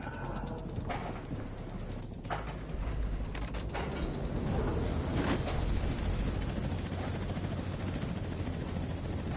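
A helicopter in a video game cutscene churns steadily with a deep rotor rumble and whine, building slightly louder partway through and holding close and constant, with some mechanical creaks layered in and no talking.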